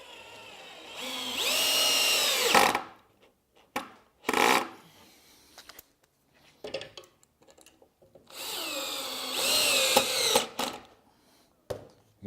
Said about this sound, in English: We'll screw right at the bottom.